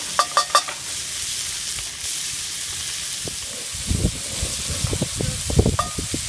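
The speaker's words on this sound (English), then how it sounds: "we're going to brown that up a little bit with the bacon" Ground beef and bacon browning in a Dutch oven for cowboy baked beans, with soft sizzling and intermittent scraping stir sounds, close and moderately loud, strongest in the second half, no talking.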